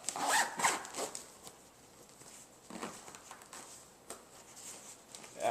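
Zipper on a carrying bag for gear pulled in a few quick rasping strokes, loudest at the start and again at the end, with quieter rustling between and no talking.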